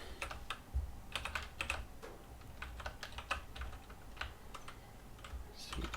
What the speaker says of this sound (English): Let's start typing here.